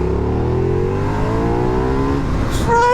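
Ducati Diavel motorcycle engine revving hard and accelerating, a loud continuous rising roar that climbs in pitch, then a gear change near the end as the rush resumes.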